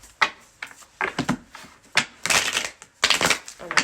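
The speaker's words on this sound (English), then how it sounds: "I can't even shuffle right now." Tarot cards being shuffled by hand during a reading, giving uneven bursts of crisp riffling and slapping, close and fairly loud, with brief pauses between handfuls.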